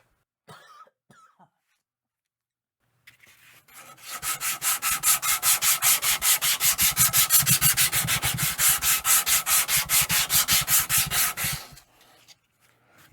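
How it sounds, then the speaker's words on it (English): Rhythmic back-and-forth sanding strokes rasp against a wooden guitar neck, dozens of even passes in a steady rhythm, close and loud, after brief quiet handling sounds. "that's probably all the sanding in that direction I want to do"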